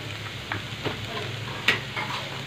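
Shredded cabbage stir-frying in a pan, a steady close sizzle with a few sharp scrapes and clinks as a utensil stirs it, no one speaking.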